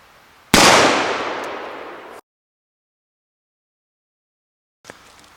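A single sharp gunshot from a Merwin Hulbert .38 double-action revolver, loud and close, its blast decaying over about a second and a half, then silence before a faint distant thump.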